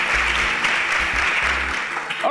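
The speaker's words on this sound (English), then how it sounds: "Please a round of applause for Marvelous" An audience applauds after a round of applause is called for on a talk show, a dense, steady wash of clapping that carries on loudly throughout and cuts off abruptly at the end.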